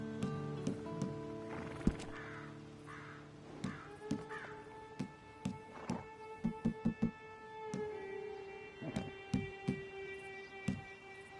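Horse hooves from Red Dead Redemption 2 clip-clop in quick uneven clusters over a steady tonal background, with faint whinnies and crow-like caws scattered around, moderately close and fairly quiet.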